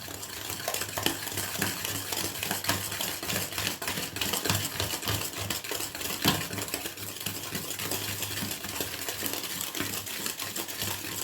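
Homemade bakery-style biscuit dough being stirred in a bowl makes a continuous run of quick, close clicking and scraping taps, busy and even throughout.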